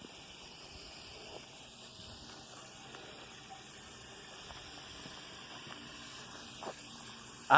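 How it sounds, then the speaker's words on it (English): A waterfall in Holmfirth gives a faint, steady rushing hiss that holds evenly throughout, heard from some distance with a few small knocks nearby. "So it is a waterfall."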